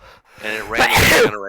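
A person sneezes once, loud and sharp, just after a short stretch of speech at a tabletop game session, with talk resuming around it.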